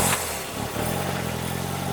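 A 1990s Toyota car engine runs at a steady low idle, close by, with a brief dip and stumble early on before it settles into an even hum.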